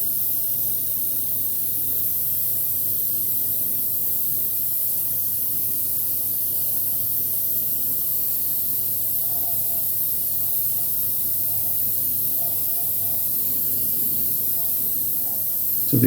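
A light coat of spray paint going onto a painted figure's uniform, one long, unbroken close hiss at even loudness throughout.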